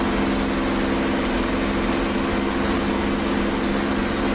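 The F6F Hellcat's piston engine drones in a DCS World flight, a loud, steady, unbroken roar with an even low hum and no voices over it.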